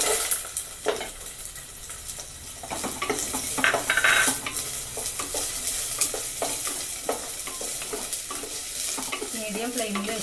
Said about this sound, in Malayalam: മീഡിയം ഫ്ലെയിമിൽ വെച്ചിട്ട് നല്ലപോലെ വഴറ്റിയെടുക്കുക.